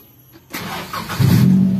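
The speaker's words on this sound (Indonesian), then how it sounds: "Kita langsung nyalain mesinnya." A Daihatsu Gran Max with a blocked catalytic converter and a loud aftermarket exhaust cranks and fires up, a short starter whir giving way to a close, rough low engine note that grows louder as it settles into idle.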